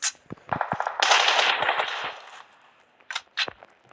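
Automatic gunfire in the video game PUBG Mobile on the Livik map, with short bursts and single shots followed by a longer sustained burst, then a few scattered shots at the end.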